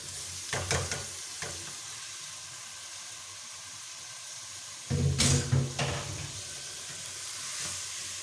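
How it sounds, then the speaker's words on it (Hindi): Taro root (arbi) being fried and stirred in a pot over a slow flame, a faint continuous sizzle punctuated by a few louder stirring scrapes and clatters, close and without speech. "स्लो फ्लेम पे हम इसको ना फ्राई करेंगे, भून लेंगे अच्छी तरह"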